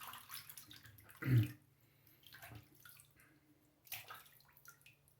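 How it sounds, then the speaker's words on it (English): Tap water rinses a shaving brush used with glycerin soap, with a brief splashing gush, then scattered quiet drips and small trickles, close and fairly faint. "Just rinse off the brush and the lips."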